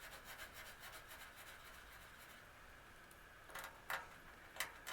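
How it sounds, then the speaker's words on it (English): Steel wool scrubs surface rust from the chrome bumper of an old barn-find car in steady, faint, rasping strokes, growing a little louder toward the end. "we'll take our steel wool and just abrasive it."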